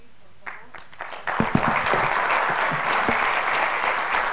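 Audience applause for a panel and its moderator at an internet governance forum session, starting with a few scattered claps, then building into steady, full clapping that fills the room and holds to the end.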